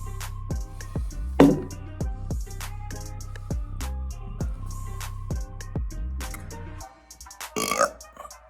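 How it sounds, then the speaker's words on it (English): Repeated loud burps from a person, a long chain of deep gulping belches in quick rhythmic succession, then a brief pause and a final rougher burst near the end. "Why am I burping so much?"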